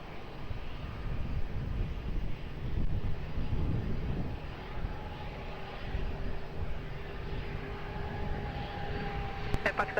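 Jet airliner on short final approach at Lisbon Airport, a steady broad engine roar with wind buffeting, holding at moderate level throughout with a faint tonal whine rising near the end.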